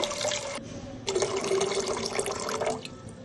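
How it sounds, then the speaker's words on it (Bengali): Water poured into a cooking pan for chicken egg soup, a close, steady splashing stream that breaks briefly and then resumes, running for about two seconds before tapering off. "একটু প্যানে পানি নিয়ে নেব পরিমাণ মতো"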